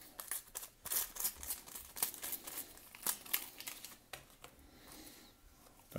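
Crisp crinkling and tearing of a thin foil Panini Spider-Man trading card packet being opened, close up, with bursts of rustling and small rips in an irregular rhythm, no voices.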